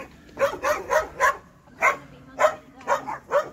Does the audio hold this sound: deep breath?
no